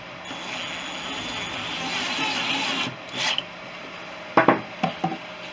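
A pencil scratches a mark on a wooden block set in a U channel, a close, steady rasping stroke of a few seconds followed by a couple of short taps and scrapes.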